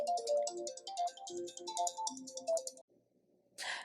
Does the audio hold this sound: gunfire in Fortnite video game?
no